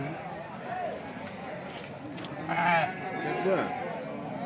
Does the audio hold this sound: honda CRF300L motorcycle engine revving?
no